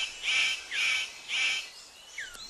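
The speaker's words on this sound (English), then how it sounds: "The superb bird of paradise calls to attract a female." A male superb bird of paradise gives three loud, harsh, buzzy calls in a steady rhythm, each ending in a downward sweep. A fainter, shorter call follows in a quiet forest setting while he displays to attract a female.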